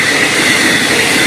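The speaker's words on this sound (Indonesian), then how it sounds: "itu kereta feeder dari Bandung ke arah Padalarang" Loud, continuous rumble and hiss of a feeder train running from Bandung toward Padalarang, passing close by with steady wheel and rail noise throughout.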